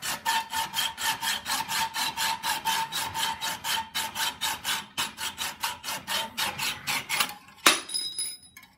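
A hacksaw cutting through bar stock clamped in a vise, giving a steady rhythmic rasping of quick back-and-forth strokes, close and clear. It ends with a sharp metallic clink.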